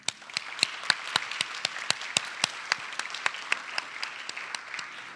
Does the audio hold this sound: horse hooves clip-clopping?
no